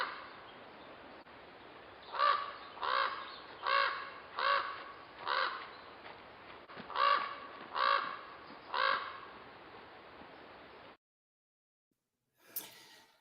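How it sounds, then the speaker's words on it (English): A raven gives a series of about eight loud, low, hoarse croaking calls at a steady rhythm against a constant background hiss, followed by a brief separate rustle. "here we have the hearty voice, the low voice, the loud voice of the raven"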